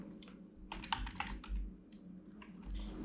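Fingers tap out a short burst of quick keystrokes on a computer keyboard, close and fairly soft, over a low steady room hum.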